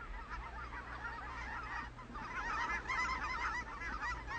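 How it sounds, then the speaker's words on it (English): Flocks of migrating geese call overhead in late autumn along the Pacific Flyway, a steady chorus of overlapping honks that grows fuller midway, heard over a low constant hum. "To look upward to see strings of ducks and geese threading toward the southern horizon"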